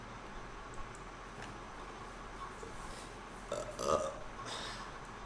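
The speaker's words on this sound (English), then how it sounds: "Sorry for the fucking burp" A single short, low burp rises briefly near the end over a quiet, hissy room background.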